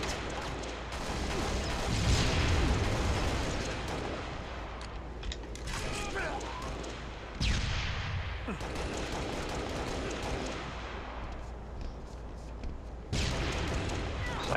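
Sniper rifle fire in a Halo Reach hardcore 4v4 slayer match on Sanctuary sounds as heavy booms within dense, continuous game noise, with a voice talking over the action.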